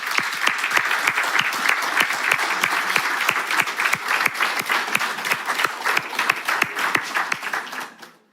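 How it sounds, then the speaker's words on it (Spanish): Audience applause at a church gathering, a steady dense clapping from a crowd with sharp individual claps standing out, holding at full level before fading at the end. "¿Qué le parece si nos damos un aplauso?"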